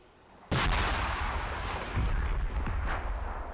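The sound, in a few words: artillery rounds exploding in video game Combat Mission Black Sea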